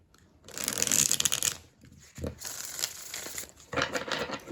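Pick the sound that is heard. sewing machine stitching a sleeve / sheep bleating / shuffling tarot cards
shuffling tarot cards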